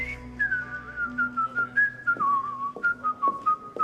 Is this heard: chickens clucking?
no